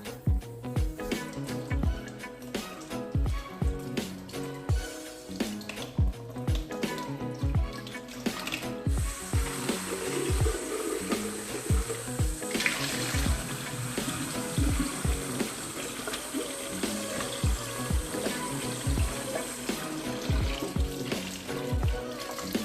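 Water runs and splashes while parts of a Tineco Floor One S5 floor cleaner are rinsed, with clattering handling knocks over a steady stream, close by and without speech.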